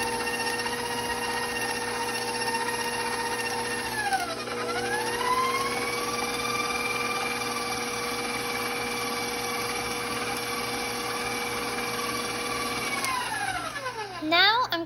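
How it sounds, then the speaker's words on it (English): Electric stand mixer beating cookie batter, a steady whirring motor hum that drops and rises in pitch as the speed changes, then sweeps back down near the end. "I'm going to speed up my mixer so it mixes better"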